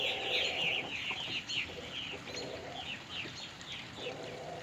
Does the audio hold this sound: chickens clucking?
yes